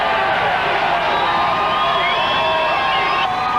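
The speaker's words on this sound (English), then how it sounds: "The sound was thunderous. The crowd was deafening." A huge crowd cheering at the 1980 Philadelphia Phillies World Series championship celebration, a continuous dense roar of shouts and whoops, loud and sustained throughout.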